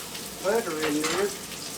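Butter sizzling as it melts and browns in a hot frying pan over the stove, a soft steady crackle with a brief louder hiss near the start, heard alone without talk.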